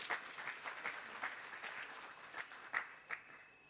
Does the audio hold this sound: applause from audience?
yes